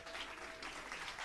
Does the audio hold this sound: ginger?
no